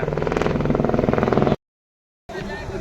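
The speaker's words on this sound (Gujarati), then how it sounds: "હેલિકોપ્ટર જોવો, દર 5 મિનિટે આવું જોવા મળે છે." A loud, steady helicopter rotor chop pulses close by at Kedarnath, cutting out abruptly for a moment before the throbbing engine noise returns.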